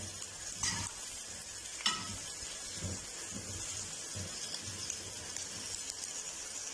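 Onions frying on full flame for chicken korma: a close, even sizzle with scattered scraping and clinks as they are stirred, fairly quiet overall.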